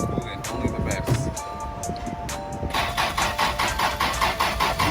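A Toyota Supra engine cranks and fires for the first time, a rapid rhythmic pulsing that steadies into a close, even idle, with people talking in the background.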